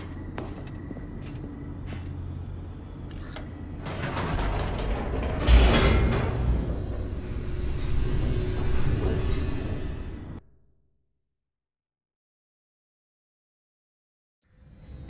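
An elevator descending in the video game The Stanley Parable, a steady mechanical rumble with creaks and rattling that swells midway, then cuts off abruptly into silence.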